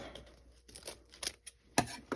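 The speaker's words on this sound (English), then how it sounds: "Just come up in here with your scissors." Scissors snip through a duck wing joint while a decoy is prepared from a field-shot bird, giving a few short crunchy cuts and crinkly rustles close by, with one sharper louder snip near the end.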